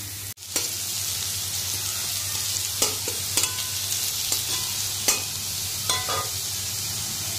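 Potatoes sizzle steadily frying in hot oil, with occasional scraping and stirring clicks from a utensil against the pan.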